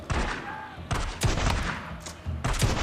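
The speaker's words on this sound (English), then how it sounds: "now you're just going to go in with a shotgun and blow him away." Shotgun fire in the video game Days Gone: three or four loud, booming blasts in quick succession, each with a short rumbling tail, close and dense.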